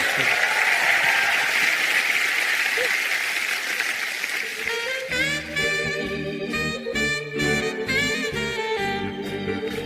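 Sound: studio audience applause

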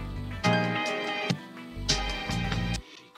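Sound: chopped music sample slices in quarter notes on MPC

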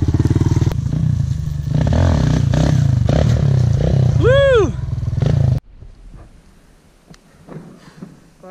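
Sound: motorcycle doing a wheelie

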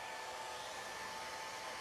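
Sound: hairdryer drying paint wash on a miniature

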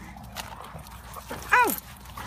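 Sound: dog whimpering

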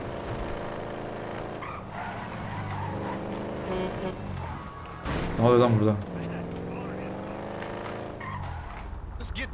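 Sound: car driving in video game Grand Theft Auto V

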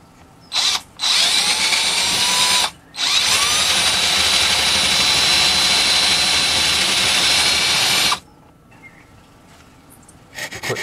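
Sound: drill boring a hole for a power socket

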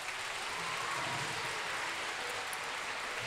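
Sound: applause in a concert hall

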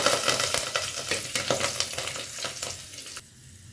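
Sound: mustard seeds, chillies and cumin sizzling in tempering oil

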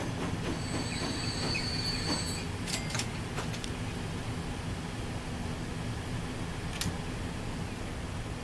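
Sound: train running in the video game Transport Fever 2

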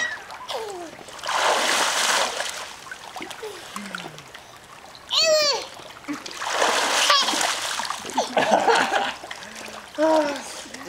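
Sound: water splashing in a hot tub

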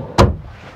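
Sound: full-extension RV bedroom drawer sliding

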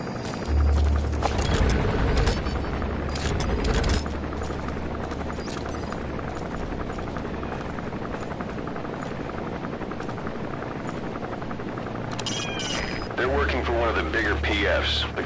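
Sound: helicopter patrolling overhead in a video game

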